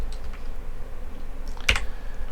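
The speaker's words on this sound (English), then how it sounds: "we do that by just typing in the path to the CSS" A computer keyboard being typed on: a quick, even patter of soft key clicks close by, with one sharper keystroke near the end and no voices.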